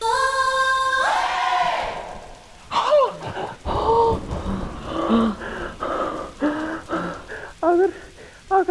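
Rain falling with a thunderstorm, a steady wash of rainfall followed by sharp, irregular bursts of louder crackling and rumbling, fairly close and with no talking over it.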